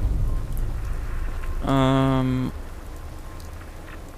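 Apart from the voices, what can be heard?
rain in video game Fallout 4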